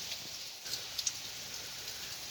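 Steady rain falling outdoors as a dense, even hiss, with a few sharper drops standing out briefly. No voices.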